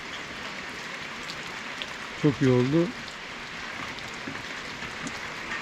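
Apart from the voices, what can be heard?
rain falling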